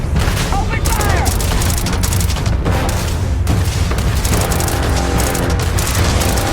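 Dense, loud enemy gunfire in the Starfield space game, with repeated booming shots and bursts layered over a constant roar of combat, along with a brief voice.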